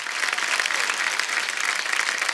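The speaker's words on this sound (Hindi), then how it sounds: "जोरदार तालियां।" A studio audience on The Kapil Sharma Show breaks into loud, dense applause, a continuous wash of many clapping hands held evenly throughout without a break.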